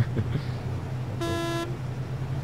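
A car horn gives one short, steady honk lasting about half a second, clear against the hum of a vehicle interior and road noise.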